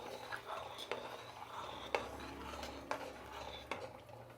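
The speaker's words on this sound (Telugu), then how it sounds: "బియ్యం వేసిన తర్వాత ఒకసారి బాగా కలుపుకోండి." Rice is stirred in a cooking pot of tomato-and-masala rice. A soft, faint scraping runs throughout, punctuated by about five light clinks of the spoon against the pot.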